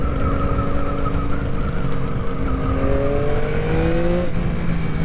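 A 2023 Yamaha MT-09 SP motorcycle engine runs loud and close on a test ride, its revs sweeping and dropping as it downshifts on cold tires, under constant wind rush.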